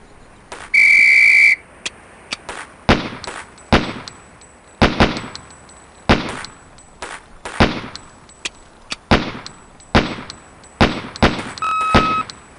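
A referee's whistle blows once to start a SWAT firing drill in the MS-DOS game Police Quest: SWAT, followed by a rapid sequence of sharp pistol shots with ringing clangs from the targets.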